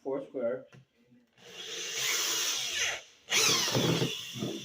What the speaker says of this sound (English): This drill literally goes right through the material very quickly, so be careful.